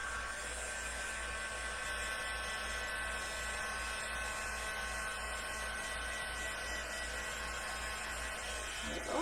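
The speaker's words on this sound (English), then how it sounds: "So I'm just going to get out my heat emboss tool and just dry it off a little bit." A heat embossing tool blows hot air to dry stamped ink, giving a steady, close, continuous fan whoosh with an electric hum that runs unbroken throughout.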